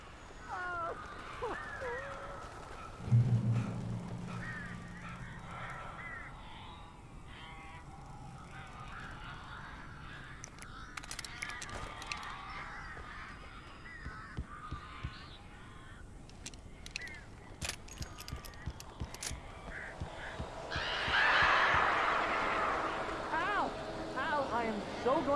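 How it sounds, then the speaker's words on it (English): Strange birds squawk and caw inside a cabin in the horror game Alan Wake, harsh cries rising at intervals over a low ambient drone, with a loud burst near the end and speech mixed in. "These birds are weird."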